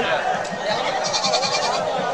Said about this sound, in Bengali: দেখেন একাই 13টা ছাগল নিয়ে আসছে